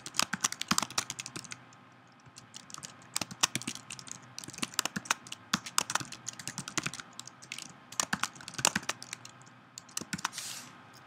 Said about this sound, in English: I'll just type this all out and explain it in just a second.